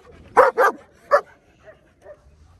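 At a dog market in Sidi Bel Abbès, Algeria, a nearby dog lets out three loud, sharp barks, then a few faint yips and whimpers.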